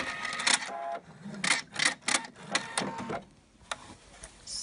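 A sewing machine stitches ribbon onto a fabric gift bag in quick, close bursts of rapid mechanical chatter, pausing briefly between runs.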